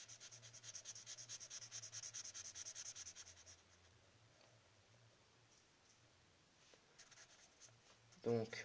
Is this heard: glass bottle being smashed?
no